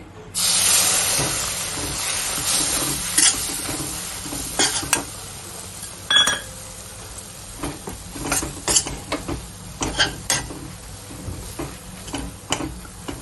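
Besan ladoo mixture with saffron-soaked milk roasting in a pan, giving a steady close sizzle and hiss broken by repeated scraping strokes of a spoon stirring it.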